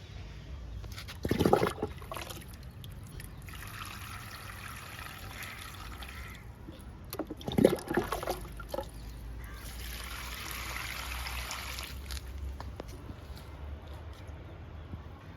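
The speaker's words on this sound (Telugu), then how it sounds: "వింకాకి, మిల్లీకి వాటర్ ఇస్తున్నాను." Water trickles and splashes onto vinca and milli flower plants in a home garden, with two sharper, louder splashes early on and a steady gurgling stream between them, heard up close without talk.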